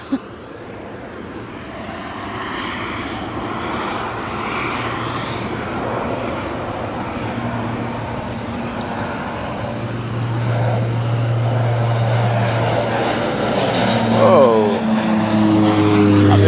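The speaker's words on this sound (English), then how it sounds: "we've got a plane taking off" An airplane takes off at East Midlands Airport, its engine roar building steadily louder and nearer over many seconds, with voices faintly underneath.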